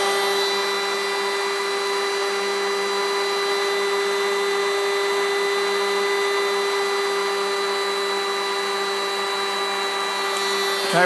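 A Rodin coil pulse motor runs at high speed, near 24,000 RPM, producing a steady, loud electric whine with a constant pitched hum that barely changes from start to finish.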